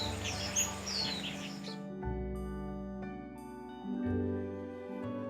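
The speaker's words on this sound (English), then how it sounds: "The cute baby birds can't wait to explore the unknown world." Baby birds in a forest, with a gray-capped woodpecker nearby, give a few faint, high chirps early on, soon buried under soft sustained music.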